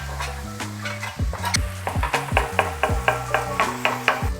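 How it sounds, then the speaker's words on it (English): Apple cider vinegar hits a hot pan of caramelized onions, a quick hiss that settles into a sizzle while a utensil scrapes and stirs in rhythmic strokes, up close under faint background tones. "We're just going to deglaze that pan."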